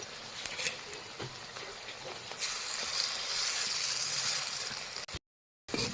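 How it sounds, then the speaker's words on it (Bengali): Fritters (bora) frying in hot oil give a soft crackle that swells into a loud, steady sizzling hiss midway, then cuts off abruptly near the end. "সব বড়াগুলো একবারে দিয়ে দিয়েছি"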